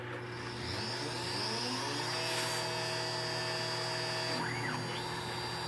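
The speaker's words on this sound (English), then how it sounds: "I control my spindle manually. So let me turn that on" CNC machine spindle driven by a VFD, cutting steadily with a constant high whine and mechanical hum, rising briefly with a sweeping pitch change near the end, no talk.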